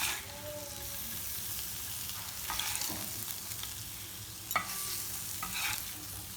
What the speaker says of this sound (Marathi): पाच मिनिटं आपल्याला मंद आचेवरती हे शिजवून घ्यायचं आहे